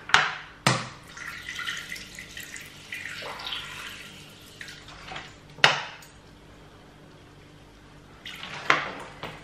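Room-temperature water poured into a Thermomix bowl for Margherita pizza dough, a steady splashing pour with a few sharp clinks of the bowl and utensils, close and fairly loud, with no talking.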